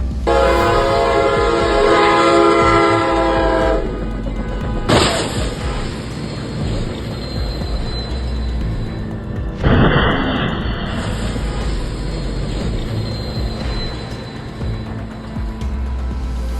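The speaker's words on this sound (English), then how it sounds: "the truck was almost run over by the train" A train's horn blares with a steady multi-tone blast, then the train rumbles and clatters past a truck almost hit at a crossing, loud and near, with another short horn sound partway through.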